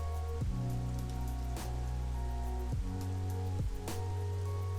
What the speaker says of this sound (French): ça s'est mis à pleuvoir quand même pas mal